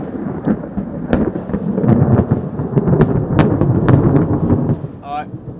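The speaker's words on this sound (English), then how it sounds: "Pretty good little lightning strike." Thunder following a lightning strike outside during a storm, a loud, sustained rolling rumble with sharp cracks scattered through it and rain hiss underneath, fading near the end.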